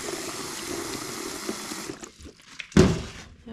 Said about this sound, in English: I'm going to fill this pot back up with cold water